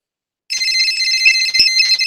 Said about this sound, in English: I'm calling his cell phone, so they charge him some units.